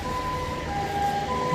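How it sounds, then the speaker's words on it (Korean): An ambulance siren sounds on a street in Japan, a steady wailing tone carried over the background hum of traffic. "지금 앰뷸런스 소리입니다."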